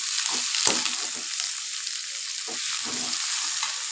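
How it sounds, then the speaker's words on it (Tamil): Onions and tomato sauté in a pan for wheat rava kichadi, with a bright, steady sizzle up close and intermittent scraping strokes from a spatula, and no speech. "வெங்காயம் வந்து நல்லா வதங்கி வரணும்"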